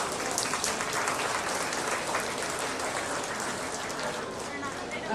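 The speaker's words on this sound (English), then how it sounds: "give these exhibitors a round of applause" Audience at a beef cattle showmanship event applauding the exhibitors: dense, sustained clapping from a crowd throughout, steady and fairly loud, with no pauses.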